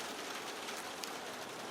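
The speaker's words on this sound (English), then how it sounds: "But it is raining. You might be hearing some pitter-patter behind the scenes here." Steady rain falls outside, a soft continuous patter and hiss with no clear individual drops, heard at low level without any talking.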